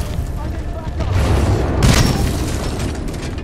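Homing missiles exploding in Titanfall 2: a continuous run of deep, rumbling booms with a stronger blast near the middle, dense and close, heard with faint talk beneath.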